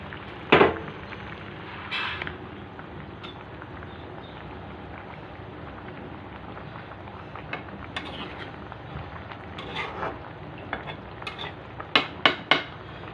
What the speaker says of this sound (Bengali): এখন আমি ধনিয়া পাতা আর কাঁচামরিচ কেটে রাখছি